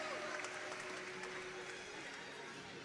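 Italian crowd applauding at a podium ceremony of the Coppa Europa Speed 2023 finals in Casalecchio di Reno, steady dense clapping throughout, moderately distant and fairly faint, with no voices over it.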